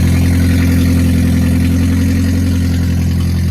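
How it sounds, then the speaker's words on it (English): Toyota Prius engine idling with its catalytic converter stolen, a loud, steady low rumble with a coarse droning hum that holds unbroken for the whole stretch, with no talk over it. "that's the unfortunate noise of a stolen catalytic converter on a Prius"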